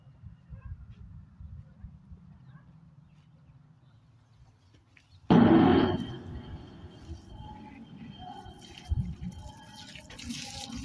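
Water is poured into a planting pit filled with a settling soil mix. After a quiet stretch, a sudden splashing gush starts and trails into a softer, continuing trickle and sloshing.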